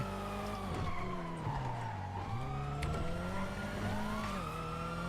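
Car engine driving and revving in GTA, loud and continuous with shifting pitch as it accelerates and slows, plus brief skid-like squeals.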